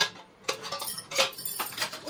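A steel spoon and fork from a tiffin set clink together in a few short, close metallic taps spaced irregularly over a quiet background.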